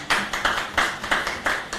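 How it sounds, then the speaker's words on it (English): Clapping at a digital marketing workshop comes as sparse, evenly spaced claps from a small group, about six distinct bursts in a loose rhythm. "Another round of applause for him."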